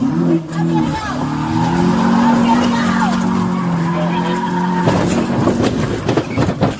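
A stolen 2007 Honda Accord speeds off from police with its tires squealing, the loud skid and engine roar running steadily for several seconds before a sharper burst of noise near the end, while voices shout underneath.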